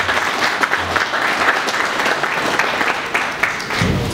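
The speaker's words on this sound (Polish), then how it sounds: "Bardzo proszę o oklaski dla Przempol." Applause fills the hall at a volunteer fire brigade annual meeting in Ostrowite, a steady, dense clapping crowd held at even loudness throughout.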